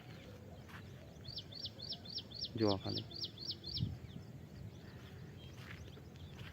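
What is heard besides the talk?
birds calling in a farm field, sparrows, parrots, peacocks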